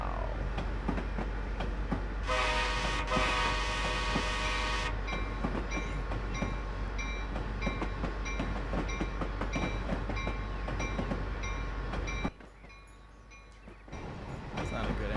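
Simulated Amtrak Vermonter train in a rail simulator game, a steady rumble of rolling stock with a bright horn-like tone partway through and a brief drop near the end as the train comes to a stop.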